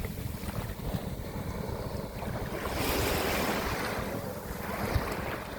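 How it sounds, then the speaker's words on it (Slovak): Sea waves roll in continuously and break on the shore at a Philippine beach resort, a steady rushing wash with heavier surges and wind buffeting the microphone, with no voices. "A more má dneska trošku vlny, nie sú to nejaké obrovské vlny"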